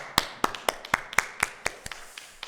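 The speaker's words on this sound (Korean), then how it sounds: "우리 예배를 받으신 하나님께 감사와 영광의 박수 올려드리겠습니다." A few hands clap at a Korean church Sunday service in Portland in thanks to God, with close, crisp claps at a steady pace of about four per second that gradually fade.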